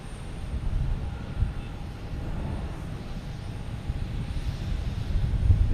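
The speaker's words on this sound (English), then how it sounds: "Airbus A321neo" Delta Airbus A321neo jet at Logan Airport, bound for Salt Lake City: a low, steady engine rumble that holds level and rises slightly toward the end, heard from a distance.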